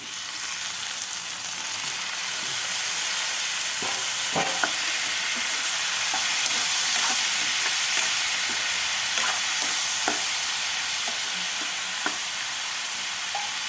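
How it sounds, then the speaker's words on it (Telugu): Cucumber pieces hit a pan of fried onions and sizzle steadily, a loud continuous frying hiss with occasional stirring scrapes and clicks, close and alone without talk. "ఉల్లిపాయలు వేగిపోయినాయి దోసకాయ ముక్కలు వేసుకుందాం"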